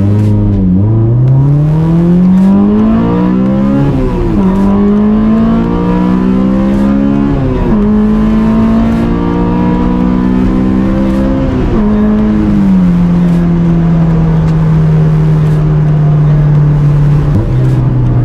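A Honda S2000 fitted with a K24 engine accelerates hard on a back road, its loud, close engine note climbing steadily and dropping at several gear shifts, then holding a steady drone.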